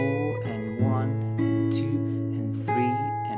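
Fingerstyle melody on an acoustic guitar with hammer-ons, picked notes ringing over a sustained low bass, played alone and close with a few quick slurred note changes.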